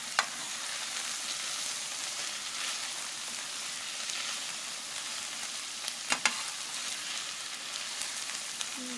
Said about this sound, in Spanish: Ahí ustedes van a ir viendo cómo ya los jalapeños están cocinando